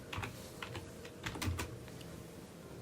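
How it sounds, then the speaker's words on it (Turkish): Typing on a computer keyboard while entering a search into the Windows search bar: a steady run of light, quick key clicks with uneven rhythm, close and fairly quiet, with no voices. "Tekrar Windows arama çubuğuna gelip virüs ve tehdit koruması yazıyorum."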